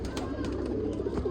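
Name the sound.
pigeons cooing on the rooftop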